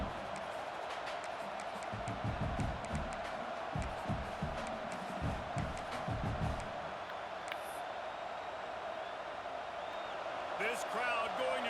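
Stadium crowd noise from an NCAA 26 college football video game, LSU against Oklahoma: a loud, steady roar with rhythmic stomping and chanting surges, followed by quieter cheering and a sharp clatter near the end.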